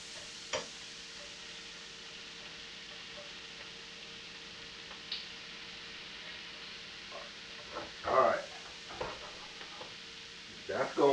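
Shrimp coated in butter sizzle steadily in a pan over the hottest possible flame, a continuous frying hiss with a few louder stirring scrapes near the end.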